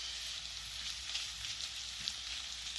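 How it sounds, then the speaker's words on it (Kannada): Byadgi chilies and cumin seeds fry in hot oil in a pan, giving a steady, soft hissing sizzle with no talk. "ಸ್ವಲ್ಪ ಇವು ಎಣ್ಣೆಯಾಗ ಹುರಿಬೇಕು ಮೆಣಸಿನ್ಕಾಯಿನ"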